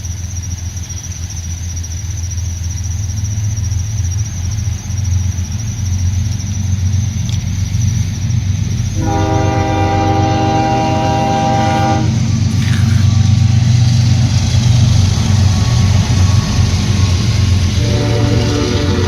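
A CSX freight train hauling oil tank cars rolls past in the rain, a loud continuous rumble of wheels with sustained metallic squealing from the rails and a tonal horn-like whine in the middle.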